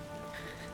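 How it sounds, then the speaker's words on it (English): Steady rain in The Witcher video game, a soft continuous hiss of drops falling on surfaces, even and unbroken throughout with no voices. "try to avoid the rain by standing under roofs"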